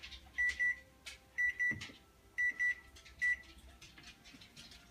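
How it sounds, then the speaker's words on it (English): Kitchen oven timer beeping while pocket apple pies bake, sounding in short electronic beep pairs repeated several times, clear and fairly near in a quiet room. "oh, that's the timer."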